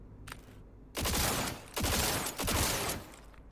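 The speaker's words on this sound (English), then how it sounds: "Oh, it shoots literally like in a 3-bullet formation." Three loud, close bursts of video game gunfire from a weapon that fires three rounds per trigger pull, each burst lasting about half a second and spaced evenly apart, with no talking over them.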